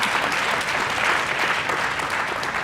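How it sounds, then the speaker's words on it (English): Audience applause at a European policy panel event, a steady dense wash of clapping from a large crowd, loud and continuous for the whole stretch with no talk over it. "I will ask the audience, first of all, to applaud."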